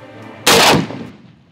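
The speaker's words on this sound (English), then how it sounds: "AK-50 V3 completed, assembled, test fire" An assembled AK-50 V3 gun fired once in a test, a single loud, close blast that rings out and fades over about a second.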